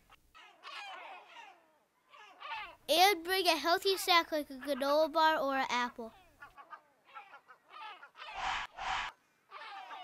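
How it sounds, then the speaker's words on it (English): Seagulls and corvids call at a nesting rookery on an island, with loud honking and squawking cries close by, a few sharp bursts among quieter stretches. Someone talks over the birds. "This island is a rookery for seagulls and corvids."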